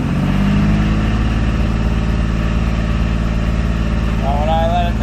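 A 2007 Dodge Nitro engine with a low oil pressure fault holds steady at about 2,000 RPM, a continuous, even mid-pitched drone that stays loud and unchanging throughout.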